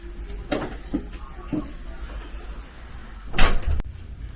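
A door swings shut at home with a short thud and rattle, preceded by a few faint knocks and shuffles; a quiet room tone otherwise surrounds it, with no talk.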